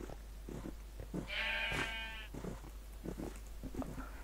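A Minecraft sheep gives one clear, wavering bleat lasting nearly a second, standing out over faint game background noise and soft clicks.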